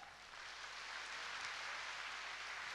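A concert audience applauds the Codrenei ensemble, a steady, fairly faint wash of clapping that swells slightly after the start and holds evenly, with no voices.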